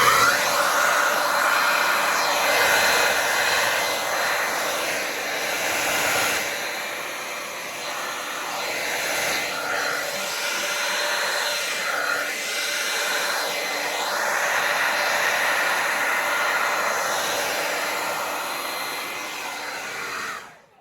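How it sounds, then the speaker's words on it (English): A hair dryer blows wet fluid acrylic paint across a canvas during a Dutch pour, a loud steady whooshing hiss that shifts slightly as the airflow moves, then cuts off at the end. "So let's get the trusty hair blower."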